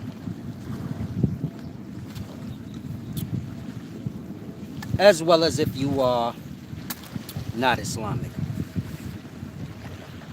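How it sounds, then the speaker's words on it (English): Water rushing noisily outdoors with steady wind buffeting the microphone, someone talking over it partway through. "This water's quite noisy"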